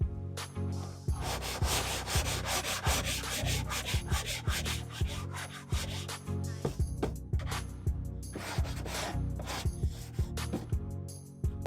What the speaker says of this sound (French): Il reste un peu de marge qu'on va rattraper à la cale à poncer.